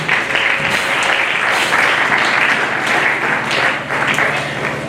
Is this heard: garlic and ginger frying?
no